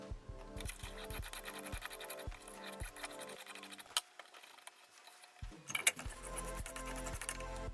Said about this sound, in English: So I'm going to use a miter block and just cut these down.